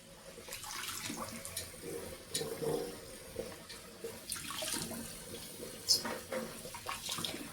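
A kitchen tap runs while a sink is being cleaned, producing a faint, irregular splashing and trickling of water with occasional scrubbing sounds, quiet and close.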